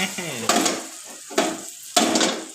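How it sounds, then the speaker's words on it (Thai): An egg fries in a pan and is flipped, with a soft sizzle broken by three sharp scraping, clattering bursts of a utensil against the pan. "เริ่มทำการกลับไข่ครับผม ถ้าไข่มันเริ่มข้างล่างมันสุกแล้วครับ ก็กลับไข่"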